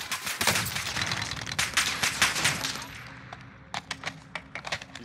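Automatic gunfire in the Modern Warfare Warzone video game, dense sustained bursts that thin into separate sharp shots toward the end, loud and close with no talk over it.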